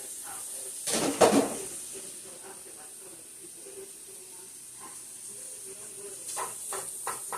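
Sliced andouille sausages hit a pan with a sudden burst of sizzling, which then settles into a soft, steady hiss with occasional small pops.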